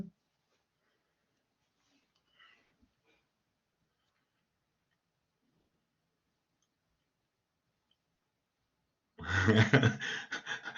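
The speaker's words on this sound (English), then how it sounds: "I'm typing." Computer keyboard keys tapped in a rapid burst of clicks near the end, loud and close, after a long near-silent stretch with faint stray noises.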